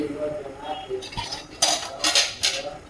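A metal lid comes off a cooking pan with a few clanks and clinks of metal on metal, preceded by quieter kitchen handling sounds and a faint voice.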